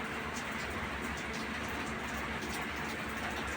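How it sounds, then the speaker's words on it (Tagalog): Steady hiss of rain falling, dense and even throughout, with no voices. "Kita nyo naman, nag-uulan."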